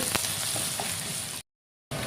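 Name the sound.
frying fish-head curry ingredients in a pan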